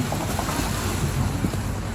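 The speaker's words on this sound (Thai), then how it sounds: "ถึงแล้วน้ำตก" A waterfall on a mountain outing, heard as a constant, full roaring rush of falling water with some wind buffeting, steady and unbroken throughout, with no talk.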